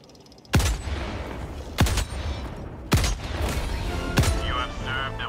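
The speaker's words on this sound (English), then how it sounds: "I think I'm gonna use the machine gun instead" A machine gun in the video game Helldivers 2, a third-person shooter, firing four loud, heavy shots spaced about a second apart, each ending in a booming low tail.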